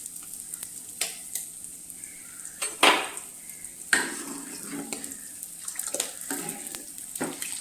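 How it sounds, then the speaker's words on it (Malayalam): Tamarind water with salt bubbles and boils hard in a pan, a close, busy crackle of popping bubbles and spattering with a few sharper bursts, heard alone without talk. "ഇനി അതിലേക്ക് ആവശ്യത്തിനുള്ള ഉപ്പും കൂടെ ചേർത്ത് നല്ലപോലെ തിളപ്പിച്ചെടുക്കുകയാണ് ചെയ്യുന്നത്."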